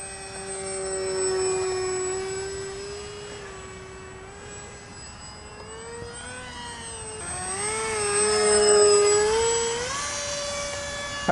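An FRCfoamies F18 prototype foam RC jet flies slowly overhead, its whining electric motor droning steadily and bending in pitch as it passes nearer and farther.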